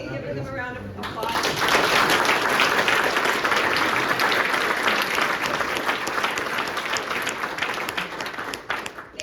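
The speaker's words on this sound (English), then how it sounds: "Can you all please join me real quickly and give them a round of applause?" An audience at an annual actuarial society meeting applauds after a panel, with dense, loud clapping that swells quickly, holds steady for several seconds and then tapers off, following brief talk at the start.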